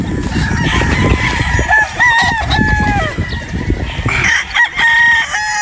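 Straight comb gamefowl roosters crowing loudly and close, several overlapping crows with clucking from other fowl in the background.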